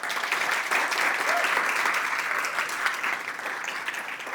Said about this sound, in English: So a big round of applause for our fellows